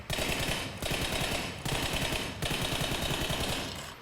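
Rapid automatic gunfire in the PUBG Mobile video game, loud continuous bursts with brief gaps between sprays, dense and close.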